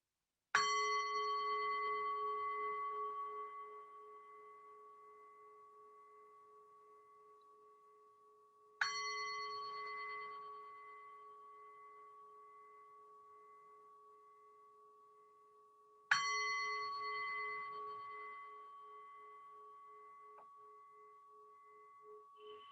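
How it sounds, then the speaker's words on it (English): A meditation bell is struck three times, about eight seconds apart, each clear ringing tone decaying slowly into near silence before the next strike, with no talking. "I'm going to sound our bell to begin our time together"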